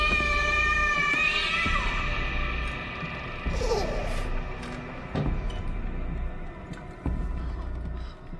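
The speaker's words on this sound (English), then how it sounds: "That scared off a cat." In the horror game Layers of Fear, a cat meows in drawn-out, wavering cries over a low steady drone, with a few clunks and a fainter second yowl partway through, and someone speaks briefly.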